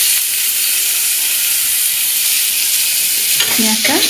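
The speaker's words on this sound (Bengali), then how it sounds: "এতে পেঁয়াজ দিয়ে দেবো।" Onions dropped into hot oil already holding cloves, cinnamon and cardamom give a steady loud sizzle throughout, with a burst of stirring and scraping near the end.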